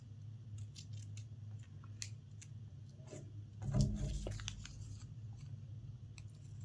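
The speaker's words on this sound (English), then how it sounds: "Now I'm cutting the other portion of the triangle." Scissors cutting through a sheet of paper to finish a triangle shape in a classroom math lesson, a few soft snips with one louder crunchy cut near the middle, close and quiet, with no talking.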